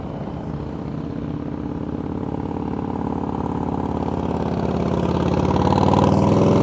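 Motorcycle engine rumbling steadily during slow-speed riding practice, a close, continuous low idle-like drone that gradually grows louder and throatier.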